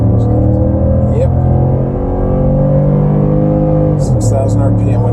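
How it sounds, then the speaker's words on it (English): A 2019 Ford F-150 Lariat's 5.0L Coyote V8 revs and rumbles from inside the cab, a deep steady engine drone with rising and falling pitch, while people talk over it throughout. "Hear that rumble, that V8 deep throat"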